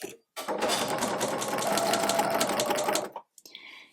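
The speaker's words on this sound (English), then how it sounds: "Now at the bottom, I am going to sew my seam at about 1/2 inch." A sewing machine stitches a half-inch bottom seam on a fabric tote bag, running in a fast, steady buzzing burst for about three seconds, close and loud, then stopping.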